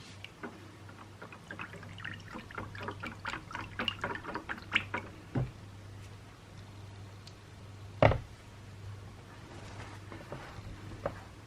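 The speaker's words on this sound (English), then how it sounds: "now as soon as our lye is cool, we're then going to add the lye into the oils" Lye solution poured into oils while making soap, a faint soft liquid pour and trickle over a low steady hum, ending in a brief louder clunk near the end.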